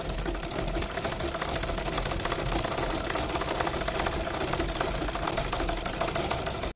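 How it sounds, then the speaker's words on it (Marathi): A sewing machine runs medium-length stitches, a loud, steady, fast mechanical whirring and clatter that continues without pause and stops abruptly at the end, with no talking. "शिलाई चालू करत आहे."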